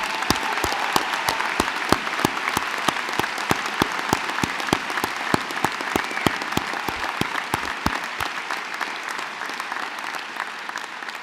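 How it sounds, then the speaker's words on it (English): Steady audience applause at a medical school white coat ceremony, dense and sustained clapping from a large crowd that continues evenly, tapering slightly near the end. "Please join me in one more round of applause for this extraordinary group of young men and women."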